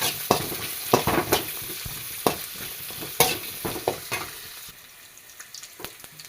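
Onion, garlic, ginger and green chili frying in oil in a kadai, a steady sizzle punctuated by repeated sharp spatula scrapes and knocks, dropping to a quieter simmer toward the end.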